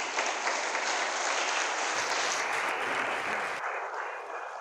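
Applause from an audience at a New Year's greetings ceremony at Ouidah town hall: a dense, continuous wash of clapping that holds steady, then thins and softens toward the end.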